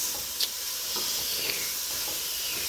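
Washed, drained beans tossed into a hot pan give a close, steady sizzle and hiss, with a couple of brief scraping stirs.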